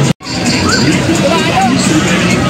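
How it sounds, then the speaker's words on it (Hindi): Dense crowd hubbub at the Khargone fair in 2024, a steady close wash of many voices and babble, loud and unbroken after a brief dropout at the start. "बहुत भीड़ है, बहुत साउंड है"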